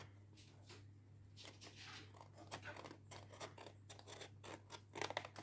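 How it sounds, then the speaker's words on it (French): Scissors snip through folded paper while a top hat box is being cut out, with a quiet run of crisp cuts in an uneven rhythm close by and no talking. "Alors, je vais la plier pour mieux la couper."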